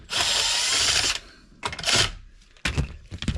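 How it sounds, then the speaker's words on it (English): A cordless power drill backs out screws from a turn signal switch bracket on a Can-Am Defender steering column, with three short whirring bursts separated by pauses and small clicks, close and loud. "we're going to take these two screws out"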